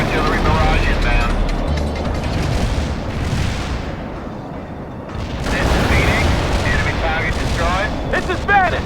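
Heavy artillery barrage in the video game World in Conflict: dense, continuous rumbling explosions and booming blasts fill the battlefield soundscape, swelling and easing slightly, with voices mixed in.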